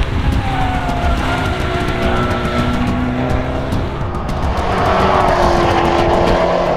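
A 2012 Fiat 500 Abarth at speed on a race track, a loud continuous engine drone with shifting pitch and a brief swell near the end, recorded close with no talk.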